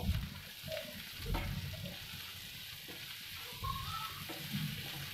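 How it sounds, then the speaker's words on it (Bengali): Chopped onions sizzle as they fry in a pan, a soft constant crackle with occasional scraping stirs of a spoon, quiet and close. "ভালোভাবে নাড়বো যতক্ষণ না লাল লাল হয়ে যায়।"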